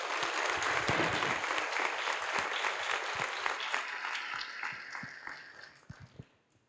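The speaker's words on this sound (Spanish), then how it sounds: "Un aplauso a la palabra de Dios, por favor." Applause from a church congregation during a Spanish-language Mass, a dense sustained wash of many hands clapping that thins and fades out toward the end.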